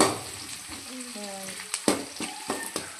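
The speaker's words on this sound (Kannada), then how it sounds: "ಸಾಸಿವೆ ಈ ಚಟಪಟ ಅನ್ನಬೇಕು" Mustard seeds spluttering and popping in hot oil while tempering for a Kannada potato (batate) pulimunchi, a steady sizzle broken by sharp, irregular crackles close by.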